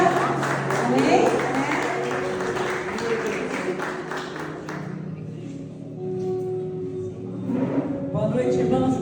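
A church congregation applauds pastor Sandra during an evening worship service, a steady wash of clapping mixed with voices and room sound for about five seconds before it thins out beneath talking.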